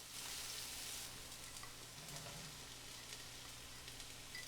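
Onions sautéing in the pot of a Ninja Possible Cooker Pro for loaded potato soup, a steady, fairly quiet sizzle with a low hum running through it, with no talk.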